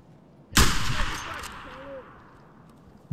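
Gunfire from a guard fight in Escape from Tarkov on the Streets map: one sharp, loud shot or burst whose echo rings out and slowly decays. Quiet background before it, with a faint voice later.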